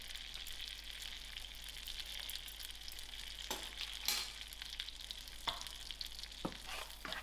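Bicarbonate soda is stirred into hot melted butter for caramel popcorn, giving a steady faint sizzle with intermittent scraping strokes of a utensil against the pan, and no voices.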